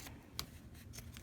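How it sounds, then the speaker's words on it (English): Scissors snip off thread ends on sewn fabric: a few crisp, quick cuts spaced apart, close but quiet over a low steady background hum, with no voices. "you're going to take your scissors or your rotary cutter, and you're just going to cut about 1/4 of an inch, and you're just going to snip those off"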